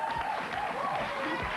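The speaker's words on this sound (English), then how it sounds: "keep that applause going down the far end" Studio audience applause on an Australian television panel show in 1999, a steady dense wash of clapping with a host's voice running over it throughout.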